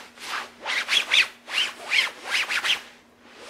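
Synthetic skirt fabric being rubbed by hand, a series of about eight close, hissy swishing strokes with faint crinkly highlights, fairly regular back-and-forth rhythm, no talking.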